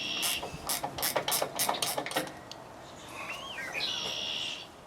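A wrench clicks through a rapid series of ratchet strokes while loosening a bolt on a mower gearbox, the sharp clicks clustered in the first half before fading out, with faint bird chirps in the background.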